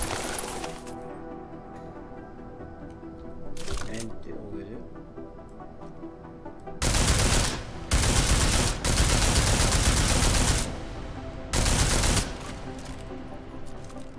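Video game gunfire rings out in loud bursts of rapid automatic fire, several sustained volleys separated by short pauses, with a few earlier single shots.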